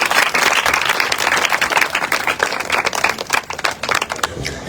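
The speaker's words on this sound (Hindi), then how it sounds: "जोरदार तालियों के साथ" A congregation at an evangelistic church gathering welcomes the speaker with loud, enthusiastic applause. Dense clapping rolls on close by and thins out slightly toward the end.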